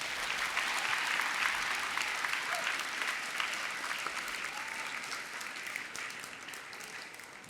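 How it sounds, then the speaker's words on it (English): Steady applause from a crowd at a middle school ribbon-cutting ceremony, sustained and fairly even throughout, gradually easing slightly toward the end. "Let's give them a round of applause."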